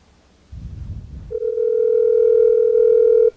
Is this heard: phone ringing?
yes